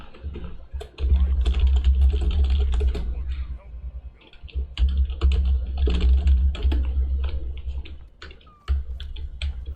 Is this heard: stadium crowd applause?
no